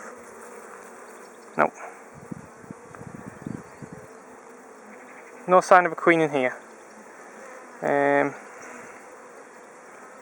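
Honey bees buzz in brief, close bursts while a hive is opened and inspected for the queen after bad weather, with a steady hum throughout and a person talking over it.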